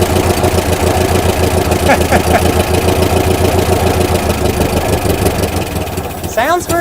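A 1964 International Scout engine runs loudly and roughly after sitting for 40 years, with a steady chugging, tractor-like idle up close, and a brief whine near the end.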